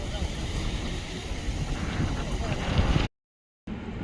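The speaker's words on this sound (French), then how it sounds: "Beaucoup de vent." Strong wind blows beside the runways of Tangier airport, a rough rumbling buffet against the microphone that stops abruptly for a moment of silence and then resumes.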